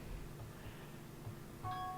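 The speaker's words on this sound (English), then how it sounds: "oh sorry if you can hear beeping in the background" A phone beeps faintly in the background of a home, a thin steady electronic tone entering near the end over a quiet low hum.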